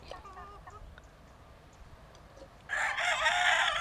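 Laying hens and a rooster cluck near a quiet outdoor spot, then a loud burst of crowing and honking fowl calls fills the last second.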